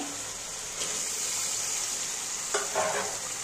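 Fish pieces for a spiced lote (Bombay duck) curry drop into cooked-down masala in a pan, giving a steady bright sizzle with a couple of soft stirring scrapes and a brief louder burst near the end.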